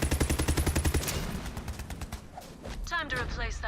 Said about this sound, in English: It's easier for me to just shoot them.